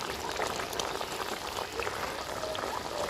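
Prawn curry (golda chingri tel jhal) bubbling hard in an uncovered pan, a dense, close, continuous crackle of popping bubbles with no voices.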